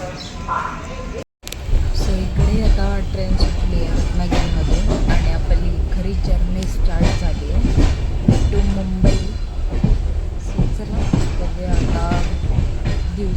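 A passenger train rumbles steadily with rhythmic clattering of wheels on rails, heard from inside the carriage, with a brief silence near the start.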